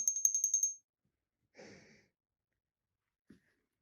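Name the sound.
small porcelain Christmas tree bell ringing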